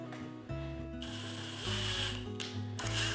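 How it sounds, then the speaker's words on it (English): A power drill turns a screw into a mounting surface to start a pilot hole for a motorized window shade bracket, a close, steady whirring grind with several brief stops and restarts and no talk. "So all I'm going to do is pre-drill it a little with the screw,"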